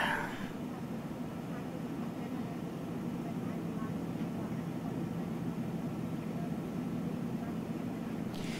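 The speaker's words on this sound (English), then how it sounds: "I turned down the audio because it was really, really loud, the engines and stuff" Aircraft engines in the X-Plane flight simulator on a flight from Salt Lake City to Portland make a steady low droning rumble that stays moderately quiet and even throughout.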